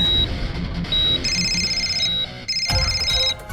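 A phone ringing with a repeated electronic ringtone, bright pulsing tones in short bursts that stop and restart several times, loud and close with no voices over it.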